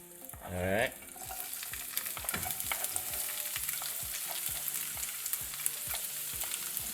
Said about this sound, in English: Because we want to be able to fry our vegetables real quick.